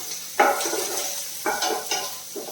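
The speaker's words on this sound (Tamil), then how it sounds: "பெரிய வெங்காயத்தை சேர்த்தலாம் சேர்த்து நல்லா வதக்கிக்கலாம்" Onions sauté in a pan for egg curry, with a soft sizzle broken by several distinct spatula scrapes and stirs against the pan and no one talking.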